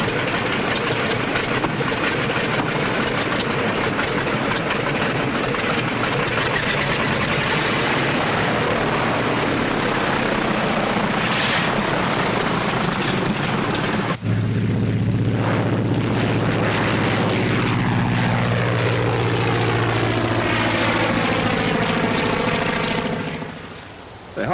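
A propeller airplane flying in an early sound-era aviation drama, a steady loud engine drone throughout with a sharp shift midway into a deeper, throbbing pitch sweep as it passes, then fading at the end.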